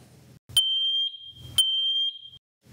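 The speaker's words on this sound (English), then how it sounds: "If connected correctly, all connected alarms will chirp for 15 seconds." A MATelec interconnected smoke detector sounds its test signal: two sharp, piercing high-pitched beeps about a second apart, each held steadily for roughly half a second or more, loud and close in a quiet room.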